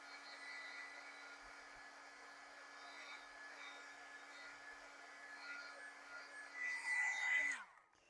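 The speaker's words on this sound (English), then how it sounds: "It doesn't like the heat gun." A heat gun blows hot air over a craft mat, a steady close whooshing drone with a faint whine that swells briefly before cutting off abruptly near the end.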